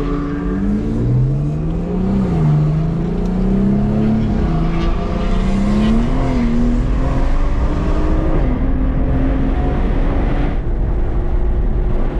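A big-turbo BMW 340i on the Putnam Park race track, its engine loud and steady as it revs up and down through the gears, the pitch rising and falling continuously throughout.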